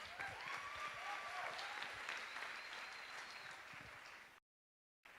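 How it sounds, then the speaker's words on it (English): Sustained applause from an audience at a women's panel event, dense and steady for about four seconds before cutting to a brief silence, then resuming. "so a big round of applause."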